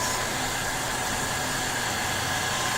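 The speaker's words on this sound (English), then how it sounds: "So then I just take my blow dryer" Hair dryer blowing on freshly stamped nail polish, a continuous loud even whoosh of rushing air with a faint motor hum, steady and close with no talk.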